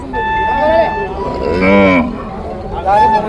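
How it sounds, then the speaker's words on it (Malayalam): Cattle, including bulls and young bull calves, moo and low nearby at a livestock market, several drawn-out calls over a faint background murmur, one starting as another trails off. "ഇത് സകല രീതിയിലുള്ള കന്നുകളുള്ള ഏരിയയാണ്"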